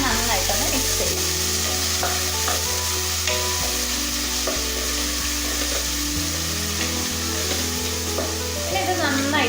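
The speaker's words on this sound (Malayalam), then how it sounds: "ഇഞ്ചി വെളുത്തുള്ളി പേസ്റ്റ് ചേർത്ത് കൊടുക്കാം. ഇനി ഇതിനെ നന്നായിട്ടൊന്ന് മിക്സ് ചെയ്യാം." Ginger-garlic paste being mixed and fried in a pan for Hyderabadi chicken biryani, giving a loud, continuous sizzle with scraping stir strokes and a low droning hum underneath.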